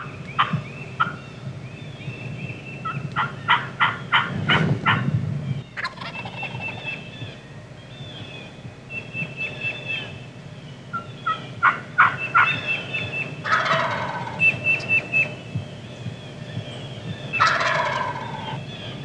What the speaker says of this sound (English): Now it's time to take a seat and try some hen calls.